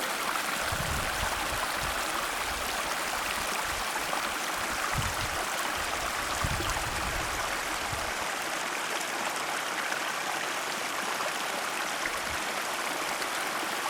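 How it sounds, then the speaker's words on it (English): A small mountain stream on the way to Bear Creek Spire in the Sierra Nevada rushes and babbles steadily, a continuous close-up wash of flowing water with no voices. "Here's the little stream."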